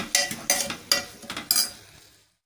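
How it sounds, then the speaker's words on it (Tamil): Okra sautéed with tomato and onion in a pan, a spoon scraping and stirring in four quick bursts with metallic clinks over a faint sizzle, then fading to silence. "இப்போ நல்லா வதக்கிடுங்க."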